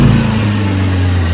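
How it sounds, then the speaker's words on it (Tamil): A car on a main road coming to a stop, its engine a loud, close, steady mid-pitched hum with no voices over it. "விஜய், சொல்லுறேன், வண்டியை கொஞ்சம் நிறுத்து."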